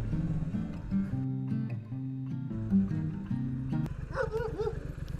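A dog in a car on driving test routes around Erith gives a few short yips and a whine. The sounds are fairly close, over a low, changing engine drone, with a brief louder burst near the end.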